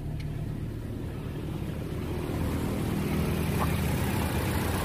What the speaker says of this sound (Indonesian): mesin hidup, halus, tidak ada goncangan sama sekali